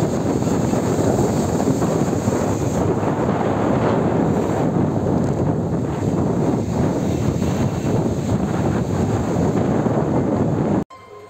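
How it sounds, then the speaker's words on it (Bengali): Strong wind at Old Digha beach blasts across the microphone as a loud, unbroken roar, with sea waves churning underneath, then cuts off abruptly near the end. "এই হলো সমুদ্রের ঢেউয়ের গর্জন এবং তীব্র বেগে প্রবাহিত বাতাসে শব্দ ন্যাচারাল শব্দ"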